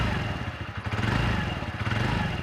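TVS NTorq 125 scooter idling and revving, its sporty bike-like exhaust note loud and close, a steady throaty drone with small rises in throttle, no talking.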